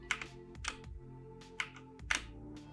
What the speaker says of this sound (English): You're going to hear the key press.